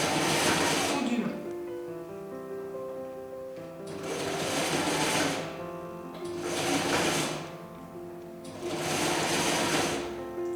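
A domestic sewing machine stitches a piped (welt) pocket in bursts, running three or four times with short pauses between, close and fairly loud, with faint talk in the gaps.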